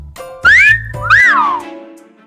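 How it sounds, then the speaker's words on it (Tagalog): Two rising-and-falling wolf whistles from boys aimed at girls, each about half a second long, loud and close, with a short gap between them and no talking. "Anong pinipito-pito nila?"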